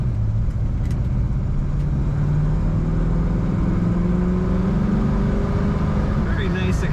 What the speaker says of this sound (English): Very nice acceleration on this Firebird.